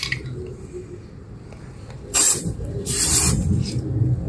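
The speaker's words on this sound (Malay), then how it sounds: "Kita spray." Aerosol can of Samurai grey epoxy surfacer sprays in two close, hissing bursts, a short one then a longer one, while painting the rear drum brake of a Perodua Alza.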